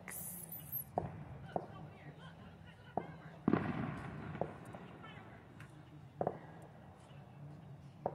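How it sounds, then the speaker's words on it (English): Scattered fireworks pop and bang at a distance during the 2024 solar eclipse, irregular sharp reports over a murmur of voices and background noise. "Fireworks."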